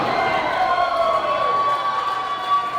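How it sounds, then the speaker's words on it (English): Wrestling crowd at an Elite Pro six-man tag match roaring and cheering in a steady, loud, sustained wall of noise after a double hip toss, with high shrill voices riding on top. "this crowd is on fire with all this action"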